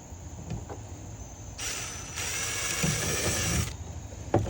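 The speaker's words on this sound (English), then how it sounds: "Let's start drilling." A power drill whines steadily for about two seconds, boring pilot holes into plastic, with small clicks and handling noises before and after.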